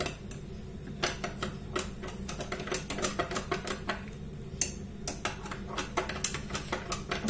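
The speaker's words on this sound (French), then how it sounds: "Je mélange." Vanilla sugar and baker's yeast being stirred into lukewarm milk in a bowl, a quick, regular clinking of a utensil against the bowl, close and fairly quiet.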